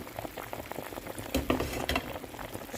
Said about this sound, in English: stir it together now